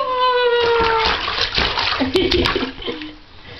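A baby named Lachlan splashes in bath water, giving a few soft splashes and water sloshes close by, while an adult talks over much of it.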